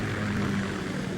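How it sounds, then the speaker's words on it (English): A Kamov KA-60 Kasatka helicopter in Metal Gear Solid 2 gives a steady, droning rotor and engine hum, low and even with no talk, heard briefly. "Kasatka? Kamov chopper, right?"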